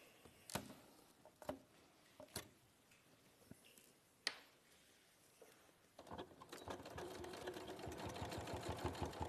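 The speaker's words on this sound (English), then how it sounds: "So we're going to just sew down the 2 sides and across the bottom." A sewing machine stitches down two sides and across the bottom of a fabric pouch. A few sharp clicks come first, then a steady, rapid needle rhythm takes over and grows louder toward the end, with no talking.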